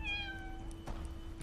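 Cat in the game Chaos auf Deponia, a single short, clear meow near the start, followed by a quiet hum and faint background noise.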